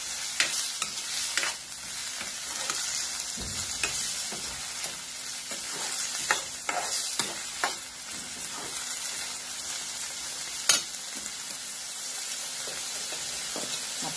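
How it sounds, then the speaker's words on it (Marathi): Half a spoon of turmeric is stirred into hot oil in a pan on high heat, a continuous soft sizzle broken by repeated spoon scrapes and clinks against the metal, with one sharper knock near the end. "आता याच्यामध्ये 1 अर्धा चमचा हळद घालायचं प्रथम आणि चांगलं हलवून घ्यायचं"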